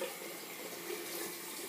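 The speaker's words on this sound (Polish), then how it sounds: "Spłuczę trochę ręce" Tap water runs into a sink while hands are rinsed during a traditional shave with shaving cream, giving a steady, close hiss of flowing water that is fairly faint and continuous, with no talking.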